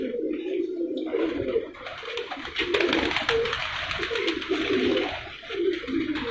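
Racing pigeons coo on a rooftop loft, a low, soft murmuring of overlapping calls that carries on steadily, with a light airy hiss in the background.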